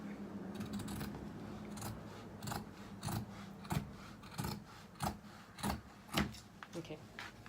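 Scissors snipping through a sheet of felt in a series of crisp, evenly spaced cuts, close and fairly quiet, over a steady low room hum.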